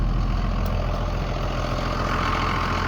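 The large diesel engine of a 2003 Blue Bird TC/2000FE bus idles nearby, a steady low rumble that holds constant throughout with no voices.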